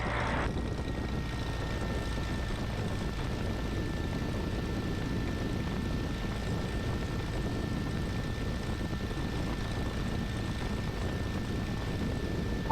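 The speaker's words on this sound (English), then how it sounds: "he basically landed and then took off again" A small airplane makes a touch-and-go landing, its propeller engine droning steadily and fairly loud throughout, touching down and powering back up to take off again.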